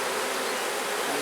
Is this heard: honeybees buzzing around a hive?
yes